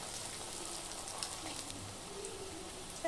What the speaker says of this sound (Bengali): তো এই গরম হয়ে যাওয়া তেলের ওপর আমি দিয়ে দিচ্ছি এই চাউমিনের